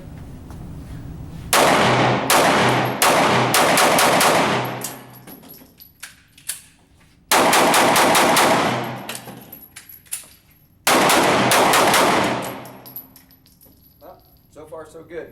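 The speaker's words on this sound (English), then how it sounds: "I'm going to put some rounds into the Q target" A Springfield XD-S pistol fires strings of rapid shots at a target outdoors, three loud bursts of sharp cracks, each lasting a few seconds, separated by quiet pauses with scattered faint clinks between strings.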